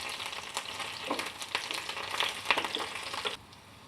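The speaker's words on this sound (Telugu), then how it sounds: "ఇప్పుడు వీటిని ఒక 2 నిమిషాలు వేగనిద్దాము" Dried red chilies, garlic cloves and tamarind fry in hot oil for a ridge gourd chutney, giving a steady close crackling sizzle with scattered pops and a few stirring scrapes, with no talk.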